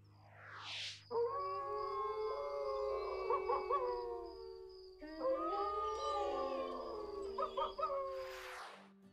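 A pack of dogs on a farm howls like wolves in two long, overlapping choruses of rising and falling tones, loud and close, with short yips at the start and end.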